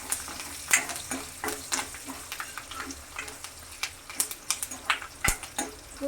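Garlic, curry leaves and dried red chillies crackle and sizzle steadily in hot oil for a tempering, with repeated sharp pops and spoon scrapes against the pan, close and fairly loud, no one speaking.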